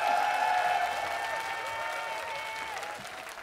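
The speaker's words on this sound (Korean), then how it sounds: "자 다시 한 번 더 큰 박수 부탁드리겠습니다." A studio audience applauds loudly and continuously for a few seconds, dense clapping that tapers off slightly toward the end, with faint voices underneath.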